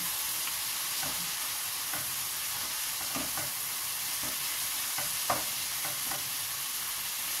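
String beans and chicken being stir-fried in a pot for a vegetable chicken soup, a constant low sizzle broken by regular utensil scrapes and taps, close and moderately quiet with no voices.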